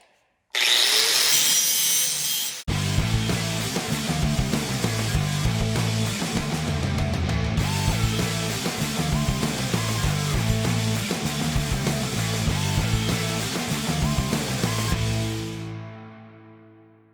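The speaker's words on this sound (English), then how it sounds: "I'm just gonna grind down the edges where I cut it, just so it gives it a nice smooth edge." Power grinder smoothing the freshly cut edges of metal cultivator parts, a loud continuous rasping whine that starts abruptly after a brief burst and holds steady for about fifteen seconds before cutting off and winding down.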